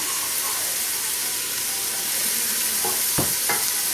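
Sliced onions searing in oil in a pot for ghormeh sabzi, a loud continuous broadband sizzle close up, with a few brief scraping stirs near the end.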